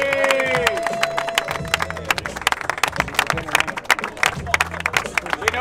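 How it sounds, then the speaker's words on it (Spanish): Scattered clapping from a small crowd at a tournament as the MVP is honored, a steady patter of hand claps lasting several seconds while a voice talks over it. "Aplauso para Auge."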